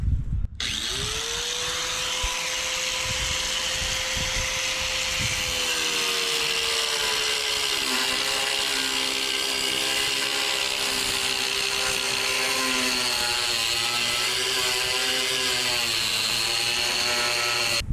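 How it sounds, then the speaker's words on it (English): Angle grinder starting horizontal cuts in brick during a brick repair, a loud, sustained high-pitched whine that dips slightly in pitch as the disc bites into the masonry, steady and close for the whole stretch. "Step one is to start the horizontal cuts with the angle grinder."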